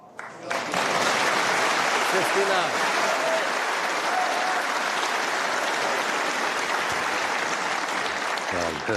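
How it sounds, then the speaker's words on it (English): Snooker crowd at the 2024 Tour Championship semi-final breaks into sustained applause after a shot, rising quickly and holding steady and full, with a commentator's voice faintly audible beneath. "Well, you heard the applause."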